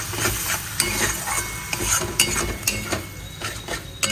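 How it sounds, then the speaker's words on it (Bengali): Coriander leaf paste stirred and fried in oil in a pan, a busy sizzle broken by regular clacks of a spatula scraping the metal, close and clear with no voices. "এটাকে দিয়ে একটু ভালো করে নাড়িয়ে চাড়িয়ে কষিয়ে নেব"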